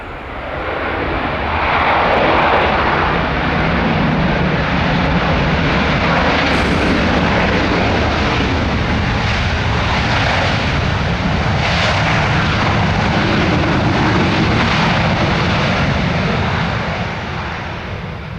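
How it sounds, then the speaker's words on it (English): A Ryanair airliner at London Stansted Airport roars steadily after landing from a circuit, its engine noise loud and sustained with reverse thrust swelling and fading over many seconds. "here's that Ryanair that's just come in from doing a circuit"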